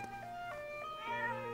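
An in-game cat from Zelda: Echoes of Wisdom gives several short, tonal meows in a row and ends on a longer drawn-out one, heard faintly with no talk over it.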